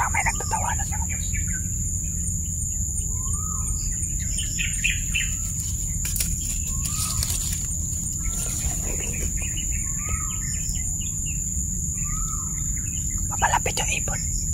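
Short chirping bird calls in a horror video game repeat every few seconds over a steady background hum, with faint game-like ambience and no talking.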